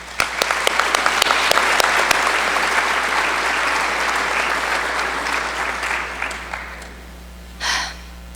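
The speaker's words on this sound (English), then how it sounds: "Please join me in giving them all a round of applause." Congregation applauding volunteers at a Rosh Hashanah morning service, loud sustained clapping that gradually fades out, followed by a brief breathy sound near the end.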